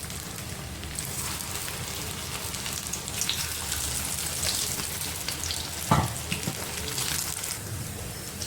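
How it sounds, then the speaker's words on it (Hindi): Kababs frying in oil heated to medium. A steady, close sizzle and crackle runs throughout, with a brief clink near the middle. "अब मैं इसमें कबाब फ्राई करूँगी"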